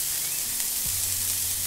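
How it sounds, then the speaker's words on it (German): Sucuk sausage frying in a preheated cast iron pan with no added fat, giving a steady, close hiss of sizzling with a low hum beneath it, no voices. "Und da werde ich jetzt die Sucuk schön anbraten"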